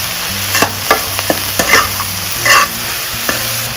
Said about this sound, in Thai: ซอสหอยนางรมใส่น้ำปลา ผัดเลยนะคะ